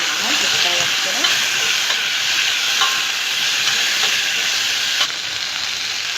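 Green beans sautéing with browned onion in a hot pan give a steady, loud sizzle and hiss throughout, with faint stirring scrapes mixed in and no voices.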